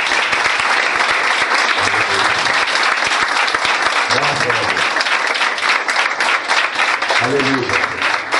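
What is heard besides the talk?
applause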